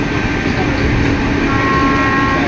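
A Vande Bharat sleeper train runs at 106 km/h on its inaugural night journey, heard from inside coach B11 as a loud, steady rumble and rushing roar with a faint high whine, no voices.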